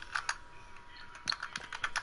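Computer keyboard keys typed in a few quick bursts of clicks, close and fairly quiet, with a pause between clusters and no talking, likely from a Fortnite gaming setup.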